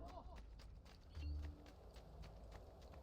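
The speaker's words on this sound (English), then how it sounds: "Oh, I can ride a horse." Horse hooves clip-clopping at a steady gait in Assassin's Creed II, a moderately close rhythmic patter of hoofbeats with game ambience beneath.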